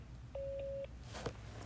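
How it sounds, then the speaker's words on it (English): A single steady voicemail beep, clear and mid-loud, lasting about half a second over faint phone-line hiss before a caller starts to speak. "Please leave a message after the tone."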